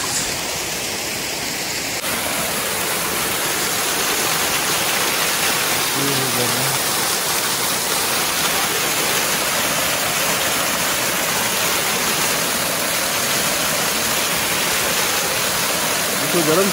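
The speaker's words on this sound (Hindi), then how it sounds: "झरना का पानी" A waterfall on the road between Tamen and Ziro toward Daporijo in Arunachal Pradesh pours with a steady, loud broadband rush that fills the whole stretch, and a voice is briefly heard over it.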